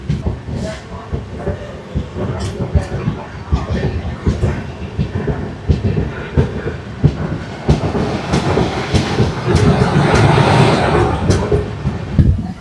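The Puri Gandhidham weekly SF Express pulls out of Chhatrapur station, its loud, close rumble and rhythmic clickety-clack of wheels on rail joints building steadily, with a hiss and heavy thumps.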